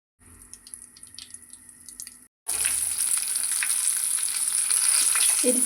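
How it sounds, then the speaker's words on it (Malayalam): Brinjal (eggplant) slices drop into hot oil in a pan after a short quiet stretch. A loud, hissing sizzle starts abruptly and keeps going steadily to the end. "ഇനി നമുക്കൊന്ന് കത്തിരിക്ക ഒന്ന് പൊരിച്ചെടുക്കണം."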